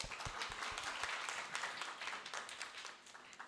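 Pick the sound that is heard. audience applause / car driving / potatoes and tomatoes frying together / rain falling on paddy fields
audience applause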